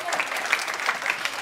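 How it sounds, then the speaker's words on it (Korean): A high school congregation at a Korean church Sunday service breaks into a brief burst of dense crowd clapping, steady and moderately loud for just over a second. "박수"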